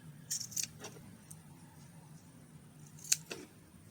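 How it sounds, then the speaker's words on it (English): Fabric being cut with scissors, several quick snips close by forming a short irregular run of crisp clicks, with a louder final snip after a pause; no one talks. "making sure I'm having those even snips all the way around"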